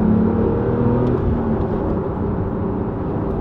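Porsche 911 Carrera T engine with sport exhaust on, blipping the throttle for an active rev-matched downshift; a steady, loud, close engine drone and whir fills the cabin without letup, no talk.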